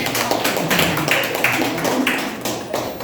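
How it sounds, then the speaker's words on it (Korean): An audience applauds at a talk by the president of Urantia Foundation, with dense, even clapping close by that holds steady throughout, no voices over it. "지수 씨가 번역하는데 이렇게 애를 쓰면서 박수 한번 쳐주세요."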